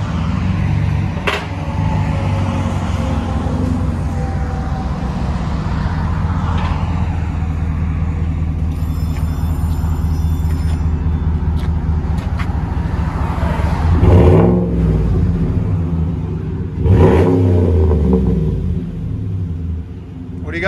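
A 2015 GMC Sierra Denali with a 6.2L LS V8 and Flowmaster Super 44 dual exhaust idles with a deep, loud, steady rumble, then rises in two brief revs near the end; a voice speaks over it at times.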